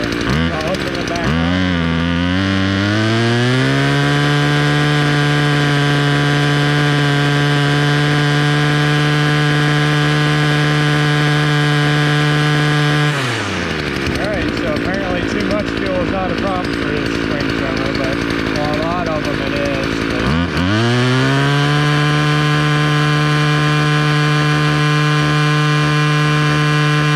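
Two-stroke engine running steadily and loud while its carburetor is tuned, revving smoothly, then sagging and sputtering as the fuel is cut off before climbing back to an even high drone, with a voice talking over it.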